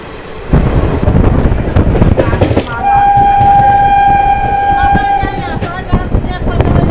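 A local train running from Azimganj to Katwa rumbles and clatters loudly and close. A long, sustained horn blast sounds over the running noise for several seconds before fading out.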